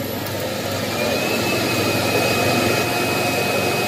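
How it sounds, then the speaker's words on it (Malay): A Roborock S8 Pro Ultra robot vacuum's dock sucks out dust: a loud, steady roaring suction whoosh runs without pause for several seconds, then cuts off abruptly at the end. "First time dia bersihkan habuk Bunyi kuat gila Aku ingat kenapa Rupanya dia bersihkan habuk Dia sedut"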